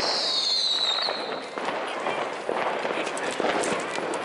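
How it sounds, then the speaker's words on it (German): New Year's Eve fireworks and firecrackers, a battery and rockets going off outdoors, give a dense stream of crackling bursts and a fading whistle, with people talking over the noise. "Ich habe eine Batterie, ich habe Raketen und einen Haufen Böller."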